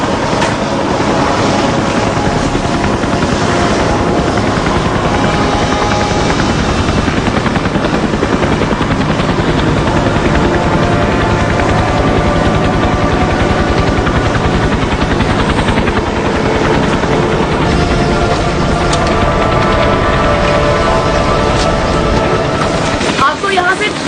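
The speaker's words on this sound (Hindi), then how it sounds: "यहाँ खतरा है, इसलिए हेलीकॉप्टर ऑन रखेंगे" A helicopter's engine and rotor keep running for the whole stretch, loud and steady with layered droning tones, kept on in a dangerous landing spot near a cliff edge with the coast guard arriving.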